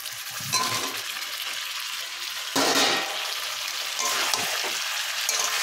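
Potatoes are tipped into a pan of frying spiced meat, sparking bursts of loud sizzling and crackling that surge, ease, then surge again with stirring.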